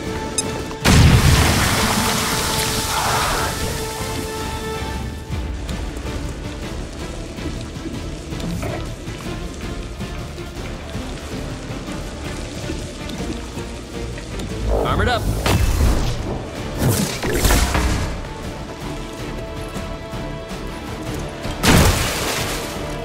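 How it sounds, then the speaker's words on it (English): Grenade blasts in the video game XCOM: Chimera Squad: a heavy boom erupts early, more crashing explosions burst near the middle and another near the end, over a constant game soundscape with occasional voices. "Throwing grenade."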